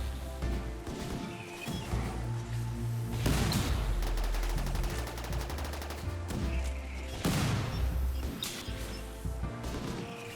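Needle gun fire in the RimWorld colony game, heard as rapid bursts of gunfire crackling over a steady musical game soundtrack, with two heavier volleys standing out above the score.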